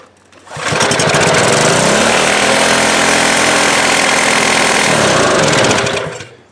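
A Husqvarna 020490 pressure washer engine with its governor out of adjustment starts and races at a loud, unsteady high rev. The close, harsh mechanical roar holds for about five seconds and then winds down to a stop.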